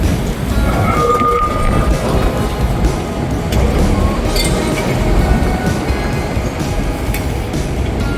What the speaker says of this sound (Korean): 우리 탈 트램 들어오고 있습니다